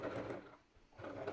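A sewing machine stitches light, fine gauze fabric at stitch length 4, its motor whirring in a steady rapid buzz that dips briefly in the middle before picking back up.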